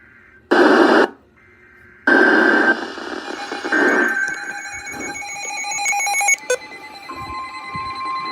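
A phone emits an emergency alert tone during a Florida weather broadcast: two loud, harsh buzzing bursts followed by layered steady beeping tones over a background broadcast, close and prominent.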